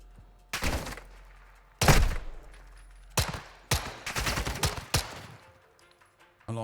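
Pistol gunfire in a shooter video game, several sharp, loud shots in irregular bursts, some single and some in quick clusters, with a faint game background between them.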